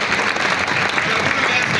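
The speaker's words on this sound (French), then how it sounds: "Applaudissons très fort." A brief burst of loud, thick applause from a gathered crowd at a rally, many hands clapping together in a continuous roar with no pause.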